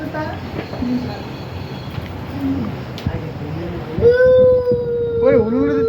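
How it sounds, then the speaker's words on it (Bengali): A train passes with a steady rumble, then a sustained high squeal or tonal whine rises in the last two seconds, while people talk nearby throughout. "ট্রেনের শব্দ"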